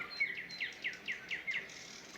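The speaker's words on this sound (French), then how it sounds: "sur un fond musical de chant d'oiseaux" Birdsong sets a calm backdrop for a guided meditation: a repeated series of about six bright, descending chirps at an even, unhurried rhythm, moderately close and fairly soft, with no voices and a faint hiss underneath.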